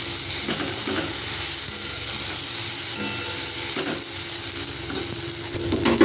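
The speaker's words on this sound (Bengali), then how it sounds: "এরপর আমি দিয়ে দিচ্ছি এখানে আদা জিরে আর লঙ্কা বাটা। সবগুলোকে আমি কিন্তু ভালো করে ভেজে নেব।" A ginger, cumin and chili paste fries in a pan while being stirred, a continuous close sizzle broken by periodic scraping strokes of the spatula, with no voice.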